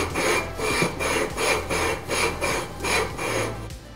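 Steady rhythmic grinding as a Predator 212 engine flywheel is lapped, a gritty rasp repeating back and forth about every half second, close and fairly loud with no talking.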